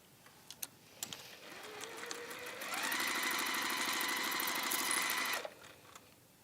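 A sewing machine stitches across a straight line on a waxed-base drawstring caddy, starting with a short slow whir and then running at a steady fast, even buzz for a few seconds before stopping abruptly, with a few faint clicks before and after.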